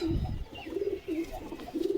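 Pigeons kept for sale as high-flying breeds, a green pigeon among them, coo in several low, throaty rolling phrases that repeat with short gaps, fairly close but soft.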